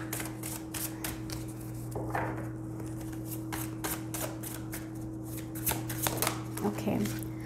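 Tarot cards are shuffled in repeated quick riffling bursts, close and crisp, over a steady low electrical hum, with brief soft speech between shuffles.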